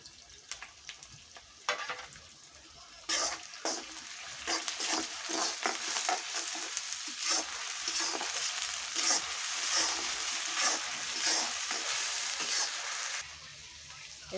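Ginger, garlic and onion paste sizzling in a pan for desi chicken curry, a steady close crackling fry with occasional stirring scrapes, building up loud and continuous before easing toward the end.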